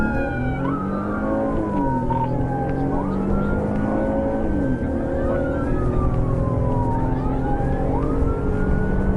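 Police car sirens wail during a high-speed pursuit, several overlapping rising and falling tones sweeping continuously over road noise, loud and close with no voices.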